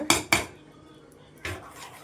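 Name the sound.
ladle adding and mixing ragi flour into cooking rice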